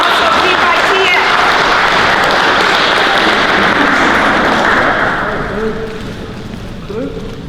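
An audience breaks into loud applause and cheering at a prison education event, a thick wall of clapping that holds steady and then tapers off toward the end.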